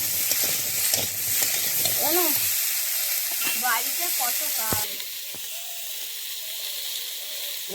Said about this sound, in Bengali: পুঁই শাক এমনি হাফ ভাজা হয়ে গেছে, চিংড়ি মাছগুলো দিয়ে মেখে ভেজে দিচ্ছি